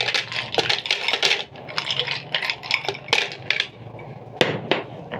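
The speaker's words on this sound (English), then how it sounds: "Lastly, add in some ice cubes to my blender." Ice cubes clatter and rattle as a handful drops into a blender, a quick burst of hard clinks followed by scattered knocks.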